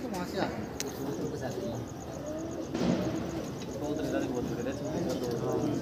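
Many pigeons coo and flutter close by, a dense murmur of calls with brief wing sounds, while someone talks over them.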